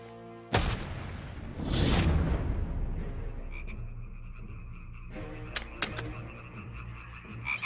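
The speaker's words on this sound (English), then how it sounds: "And frogs came up out of the river and spread over the land" Frogs that have come up from a river croak in a dense chorus, rising after a sudden loud burst and then thinning to scattered croaks against a low background.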